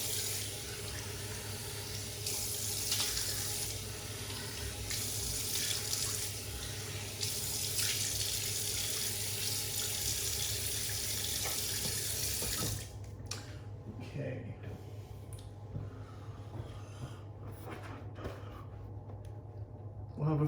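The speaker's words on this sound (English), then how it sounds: "Let me wash my face and we'll do the post." Tap water runs steadily into a bathroom sink during face washing after a shave, a broad continuous rush for about twelve seconds before it cuts off, leaving quieter splashes and rustling.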